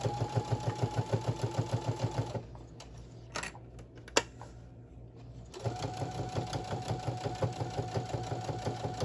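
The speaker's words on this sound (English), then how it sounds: "I'm going to go over here, starting here, and then I'm just going to back stitch there." A sewing machine back stitches along the edge of a fabric notebook cover, a rapid, even mechanical chatter that stops for a few seconds with small handling clicks, then resumes at the same steady pace.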